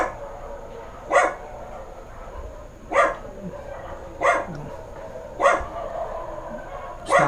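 Dogs barking at night near an abandoned place in Saudi Arabia, five single sharp barks spaced about every second and a half, moderately distant, over a quiet hum.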